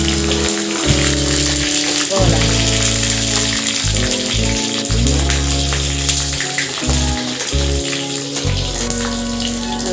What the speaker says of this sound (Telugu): ఒక పచ్చిమిరపకాయ ముక్కలు చేసి దీన్ని ఉడిస్తాం